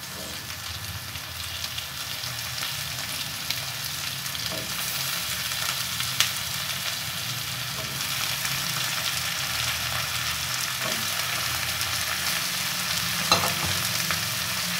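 Okra and potato fries for a spicy bhindi aloo sabzi sizzle steadily in a pan, a dense continuous frying hiss with occasional soft stirring clicks and no voices.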